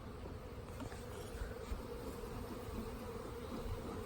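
Honeybees in a nucleus hive produce a dense, steady buzzing drone, loud and close, with no voices over it.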